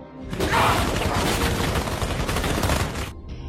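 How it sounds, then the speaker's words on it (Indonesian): Dense, sustained gunfire in an action film shootout where henchmen open fire on two people, a loud fusillade of rapid shots and booms lasting about three seconds before cutting off abruptly. "ada beberapa anak buah Reyes yang hendak menembak mereka berdua"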